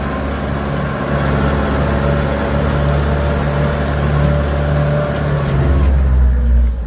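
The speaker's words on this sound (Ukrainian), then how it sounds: "видно, як горе трактор" A loud, steady engine drones throughout with a constant low rumble from a Scout TY-404 C tractor plowing a garden nearby, with no talking.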